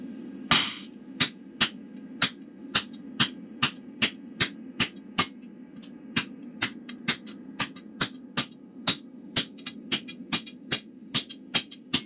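A blacksmith strikes hot metal with heavy blows while forging hinge parts for kumiko gates. About two dozen sharp, evenly spaced hammer hits ring out close by over a low steady hum.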